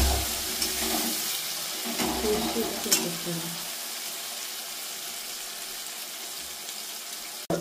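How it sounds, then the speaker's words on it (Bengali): Spice masala for a Bengali prawn curry (chingri macher masala) frying and being stirred in a pan, with steady sizzling and scraping strokes that are busier in the first three seconds and then settle to a quieter, even sizzle. "মশলাটাকে ভালো করে কষিয়ে নিতে হবে"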